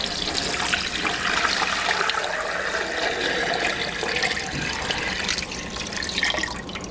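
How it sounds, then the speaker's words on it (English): Hot water pours steadily and continuously into a NESCO digital smart electric pressure canner, a close, full splashing rush that runs throughout. "we're going to top it with 2 quarts of water per the instructions from NESCO"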